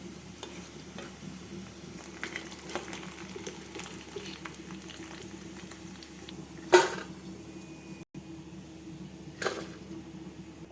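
Steady bubbling of onion pakodas frying in oil until golden, low and continuous, with a couple of brief clinks or knocks partway through.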